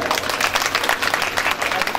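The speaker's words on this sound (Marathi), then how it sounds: "अगदी टाळ्यांच्या कडकडामध्ये सगळ्यांचं" A crowd claps steadily at an outdoor welcoming ceremony during a Buddhist Dhamma campaign event, close, continuous applause with a rough, busy texture and no clear voices.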